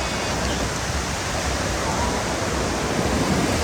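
Ocean waves wash onto a Bali beach as a steady, broad hiss of surf, continuous and fairly loud with no distinct breaks or voices.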